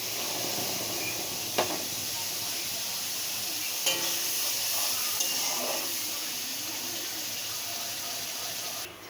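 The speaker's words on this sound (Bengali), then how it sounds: "এখন এই যে থানকুনি পাতা বাটা আছে, এটা আমি এখন এই তেলের মধ্যে দিয়ে দেব।" Ground thankuni leaf paste goes into hot oil in a pan for a Bengali bhorta, giving a steady moderate sizzle and hiss with a few brief clinks of a utensil, and no voices.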